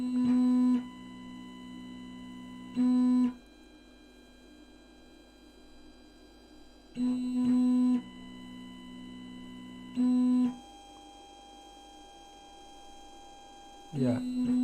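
Stepper motors of a Labists ET4 3D printer running loudly, a steady harmonic whine that cuts in and out in bursts of roughly half a second to a second, with quieter hum between.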